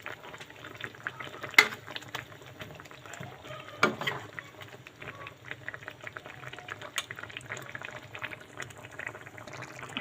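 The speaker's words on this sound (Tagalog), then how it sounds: "haluin natin guys. Lutuin lang natin siya muna." Tuna with chili is stirred as it cooks in a pan, a constant bubbling simmer broken by a few louder scrapes and knocks of the utensil against the pan.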